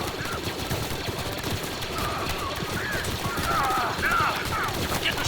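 Sustained, dense blaster fire rattles continuously in a Star Wars: Galaxy at War mod battle, where clone troopers defend a base against advancing droids. The volleys overlap with little pause.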